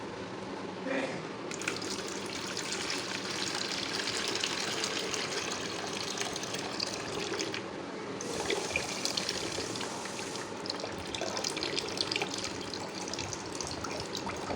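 Garlic-infused water is poured carefully off the settled garlic remains, making a continuous close trickle and gush with a couple of brief breaks in the flow.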